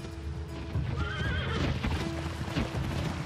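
Horses neigh in a drawn-out whinny while hooves clip-clop steadily beneath, all set against a dense, full background of outdoor noise with no speech.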